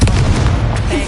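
A Confringo blasting spell bursts in Hogwarts Legacy on PS5, a loud, dense, rumbling explosion that fills the whole moment with heavy low-end booming and crackle.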